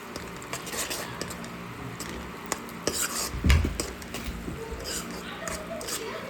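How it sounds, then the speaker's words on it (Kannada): A spoon scrapes and clinks against a bowl while mixing chopped cabbage with chili powder for cabbage Manchurian, soft irregular stirring and squishing with a few louder knocks, close by and fairly quiet. "ಇದು ಚೆಂದ ಕಲಿಸ್ತೀನಿ ರೀ."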